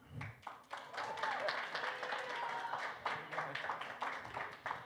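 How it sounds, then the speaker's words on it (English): Scattered clapping from a comic con panel audience, quiet and uneven, with voices and whoops mixed in over the continuing applause. "Continue to clap."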